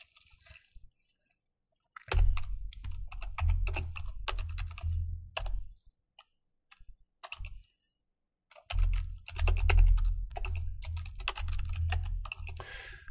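Rapid clattering keystrokes on a computer keyboard in two bursts separated by a short pause, close and steady with scattered single clicks between.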